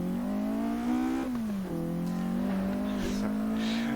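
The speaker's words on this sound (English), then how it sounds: "Car sounds good." Racing car engine pulling out of the pit lane at Goodwood, a loud, close, steady drone whose pitch climbs through each gear, drops at two quick shifts, then rises again, with no voices.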